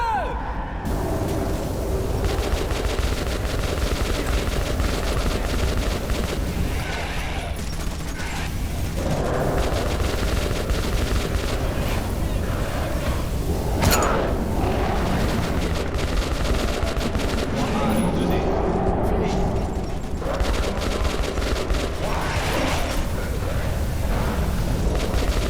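Gunfire and heavy mechanical combat noise from the video game Metro 2033 fill the mix, dense sustained bursts with loud cracks layered throughout, alongside faint talk underneath.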